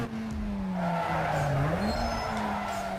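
Car engine droning and tyres skidding in the video game Need for Speed Most Wanted, a steady wavering motor tone with a continuous screech throughout, loud and close, with no talk.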